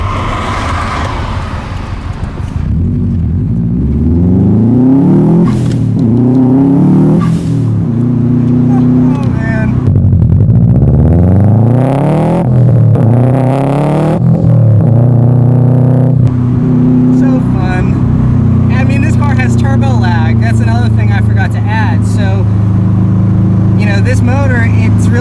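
A 2004 Subaru WRX STi with its 2.5-liter engine drones loudly from inside the cabin while driving, with rising and falling revs through gear changes under continuous talking.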